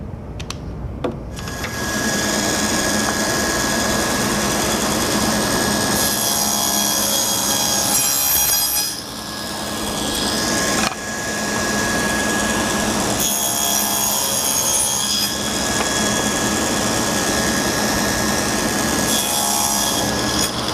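A saw cuts a wooden board for drawer parts in a workshop, its steady, loud buzzing whine running almost continuously with brief dips between passes.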